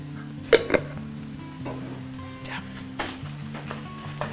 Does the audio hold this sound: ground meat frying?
yes